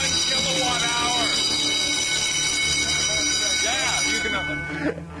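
A loud, steady electronic alarm blares continuously with shrill sustained tones, while voices are faintly audible beneath it before it cuts off near the end.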